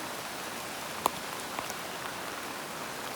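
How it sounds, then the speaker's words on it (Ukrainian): Soft steady rain patters in the background with a couple of distinct drops tapping nearby; no one speaks. "Капає дощ."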